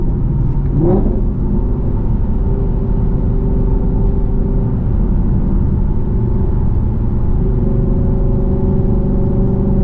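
A Whipple supercharged Ford Mustang Dark Horse with a manual gearbox cruises with its exhaust giving a steady, deep low drone and a brief rising rev near the start, heard loud and close from inside the car.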